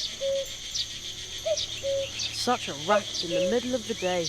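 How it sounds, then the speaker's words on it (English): A cricket chirps inside a barrel in the video game The Night of the Rabbit, giving short, evenly spaced chirps close by, with a voice speaking over the second half. "I think I can hear a cricket chirping in the barrel."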